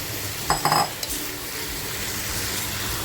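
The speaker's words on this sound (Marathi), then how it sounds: "आता बघा हे जे मटण घेतलंय हे मटण याच्यामध्ये छान असं फ्राय करून घेणार आहे" Mutton frying in a pan for a spicy village-style mutton curry: a few quick metallic scrapes and clinks of a spoon near the start, then a steady sizzle that carries on underneath.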